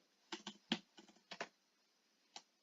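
Quiet, close typing on a computer keyboard in short clustered bursts of keystrokes with brief pauses between them, entering code while learning Python programming.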